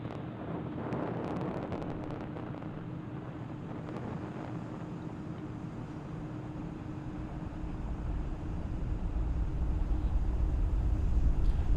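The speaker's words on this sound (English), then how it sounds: "And Falcon 9 has successfully lifted off from Launch Complex 39A, carrying our 53 Starlink satellites." A SpaceX Falcon 9 rocket carrying 53 Starlink satellites lifts off from Launch Complex 39A, a distant low rumble with wind buffeting that swells into a louder, deeper roar toward the end.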